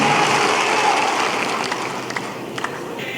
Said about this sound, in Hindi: मैं एक बार क्या आपकी तालियां सुन सकता हूं?